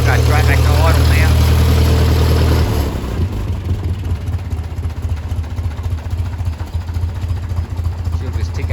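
A Ferguson 35 tractor engine drops back to a steady, close idle, a low rumbling tick-over that runs on evenly after a louder opening few seconds.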